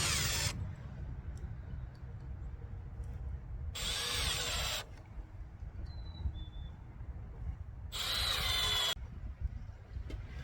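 A power drill driving screws into scrap wood boards for a garden bed, three loud close whirring bursts of a few seconds each separated by quieter pauses.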